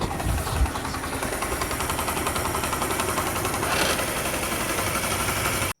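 A Honda CD 70 motorcycle engine runs steadily after its timing chain has been replaced. The idle is close and loud, with an even rapid ticking and knocking rhythm, and cuts off abruptly at the end.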